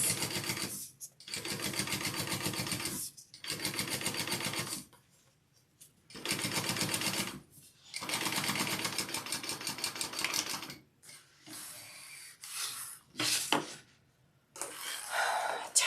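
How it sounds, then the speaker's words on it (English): Sewing machine topstitching along the side piece of a Brunella bag, running in several long bursts of rapid stitching separated by short pauses, close and steady throughout. "And then I'm top stitching along the side piece."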